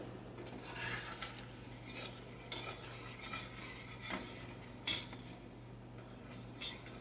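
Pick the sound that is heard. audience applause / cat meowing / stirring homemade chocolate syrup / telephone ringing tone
stirring homemade chocolate syrup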